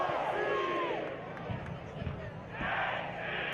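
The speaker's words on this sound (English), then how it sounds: "A delightful sound being produced by this surround sound crowd" A stadium crowd at a soccer match between Athletic Club Boise and Corpus Christi FC makes a steady, dense roar of many voices. The noise swells and dips slightly across the stretch, with occasional louder shouts rising from the mass.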